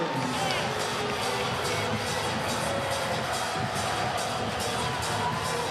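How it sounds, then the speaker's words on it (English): A large arena crowd at an NCAA volleyball tournament quarterfinal between Pitt and Louisville roars and jeers in displeasure at a call, a dense, continuous wall of shouting and noise with a commentator's voice over it. "Crowd is not happy at all."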